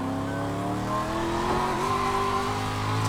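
Race car engine in the iRacing VR sim, droning steadily with rising and falling revs throughout, loud and continuous with no talk.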